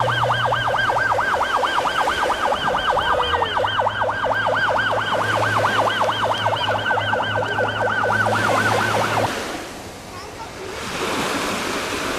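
An ambulance siren wails in a rapid, steady warble for about nine seconds during a beach rescue, loud and close, over constant surf and wind noise, with a low droning tone underneath before it cuts off.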